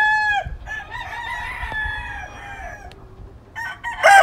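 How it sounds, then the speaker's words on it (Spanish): A Lacy Roundhead gamecock rooster crows loud and close in one long, drawn-out call that falls away at the end. A sharp second crow starts just before the clip ends. "chulada de gallo que es este lazy"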